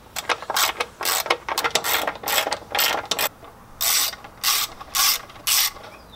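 A ratchet clicks in quick bursts of rapid pawl ticks as it loosens the crank pulley bolt on an RB26/30 engine, close and loud, with brief pauses between strokes.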